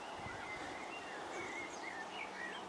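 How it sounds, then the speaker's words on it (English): Blackbirds sing faintly in the distance at Chorlton Water Park, their short warbling phrases drifting over a soft background of wind through grass. "zoom in while you can listen to the blackbirds."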